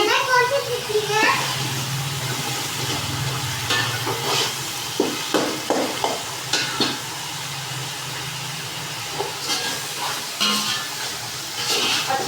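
Masala roasting and sizzling in a pan as it is stirred, with scraping spoon strokes and frying hiss, under someone talking and children's voices in the background.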